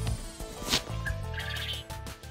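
Quail shuffle and call in a new backyard coop, with soft chirps and scattered clucks over background rustling and a few knocks.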